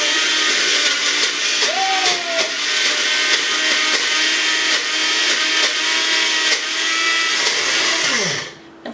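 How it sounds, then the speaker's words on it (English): A Vitamix blender runs loud and close, whirring steadily through a thick tahini spearmint dressing with slight shifts in pitch, then winds down and stops at the end. "This is why I love my Vitamix."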